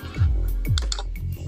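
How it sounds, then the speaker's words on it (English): Keys tapped on a computer keyboard during an online networking call, a few close, irregular soft clicks and thumps over a quiet background. "while you're typing"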